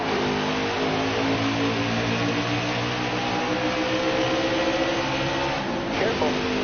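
Race cars in a PS4 racing game roar off the start line, a loud, steady engine drone with layered revving tones that holds for the whole stretch.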